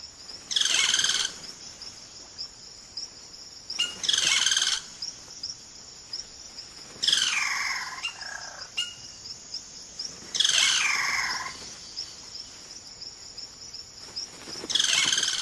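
Loud bursts of cacique bird calls recur every few seconds, varied whistles and buzzy notes, over a constant high insect drone in the Amazon rainforest.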